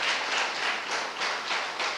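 Church congregation applauding during an evening communion service, a steady dense wash of clapping with rhythmic surges throughout, fairly distant and without speech.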